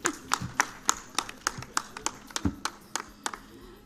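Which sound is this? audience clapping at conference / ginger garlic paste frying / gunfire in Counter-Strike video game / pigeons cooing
audience clapping at conference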